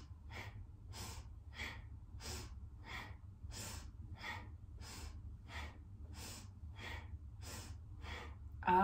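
Kundalini yoga breathing: a dozen or so quick, forceful breaths through the nose in an even, rapid rhythm, close and fairly quiet, with no speech.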